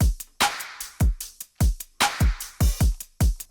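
Programmed electronic drum beat built in FL Studio, punchy kicks and snares in a steady loop with crisp hi-hats ticking between hits, close and loud with no voices.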